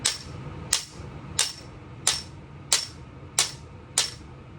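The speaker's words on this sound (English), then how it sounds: "What you're hearing is the battery pack rattling around inside." Seven sharp clacking knocks in a steady rhythm, each with a brief loose rattle of a battery pack inside a lightsaber hilt, close by and with no voices.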